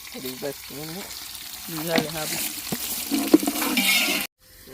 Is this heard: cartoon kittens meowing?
no